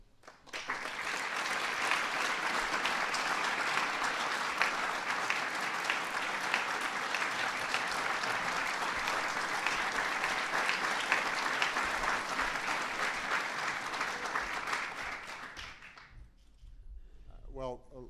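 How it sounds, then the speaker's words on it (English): Sustained, dense applause from a large audience fills a 2010 White House ceremony for the National Medals of Science and Technology and Innovation, holding steady for about fifteen seconds before fading out. "let's please give one more big round of applause to the National Medals of Science, National Medals of Technology and Innovation."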